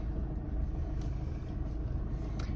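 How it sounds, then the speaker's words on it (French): A Toyota Hilux diesel engine rumbles steadily while the four-wheel-drive pickup eases off-road out of a muddy track, a continuous low drone with no voices. "c'est un véhicule diesel, hein, donc le petit bruit qui va bien"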